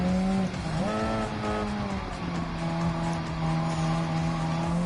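A Hyundai N 2025 Vision GT Gr.1 prototype race car in Gran Turismo 7 at Daytona Road Course, its engine a loud steady drone with a brief pitch dip and brush of tire squeal, playing alone throughout.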